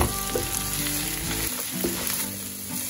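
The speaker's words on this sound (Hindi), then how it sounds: "वेजिटेबल में मैं यहाँ डाल रही हूँ मशरूम, ग्रीन ऑनियन और स्वीट कॉर्न। इसे भी थोड़ा सा इसके साथ फ्राई करेंगे।" Mushroom, green onion and sweet corn hit a hot pan and fry with a loud, close sizzle, stirred with scraping touches, and no one speaks.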